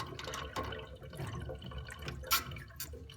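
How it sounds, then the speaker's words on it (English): An isolated Vaillant Turbomax 242 combination boiler gurgling, irregular wet drips and bubbling pops at close range, with occasional louder glugs over a quiet background. "the boiler's isolated, still gurgling away"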